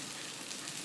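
Gluten-free vegan almond pancake batter frying in a buttered pan, a soft steady sizzle lasting the whole moment without any voices.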